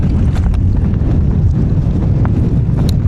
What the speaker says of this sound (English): It was already starting to get pretty windy at first light.